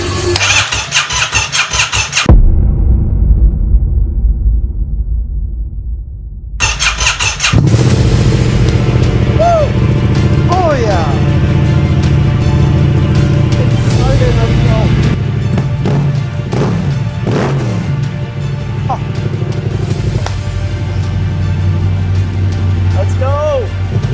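A rebuilt motorcycle engine starts on the first try: a brief crank cuts out, then a second attempt catches and the engine runs loud and close with uneven revs, while voices talk over it.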